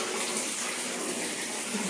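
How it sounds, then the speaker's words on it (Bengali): Cold water runs steadily from a hose pipe, a continuous close gushing hiss that holds level throughout with no voices. "বাবা বেশ পাইপে জল দিচ্ছে।"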